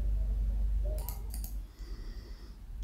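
Computer mouse clicking on a PC, a few sharp close clicks in quick succession against a low, quiet room hum.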